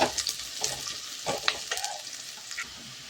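Onions and greens frying in a pan, with a bright, crackling sizzle broken by several sharp scrapes and knocks of stirring, close and alone.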